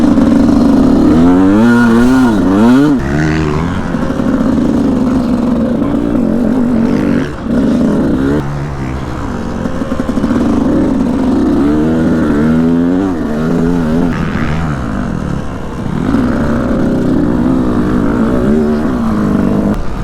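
A motocross bike rides through a rut on a training track, its engine revving and bogging in loud, close, uneven bursts as throttle is fed in gradually, continuous throughout.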